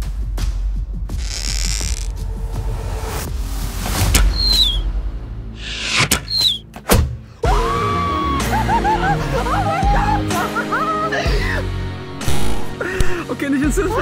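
An arrow is shot from a bow at a Nokia 3310, with sharp impact clicks and clacks, brief whooshes and rattling mechanical noise, mixed with excited vocal sounds and chatter nearby.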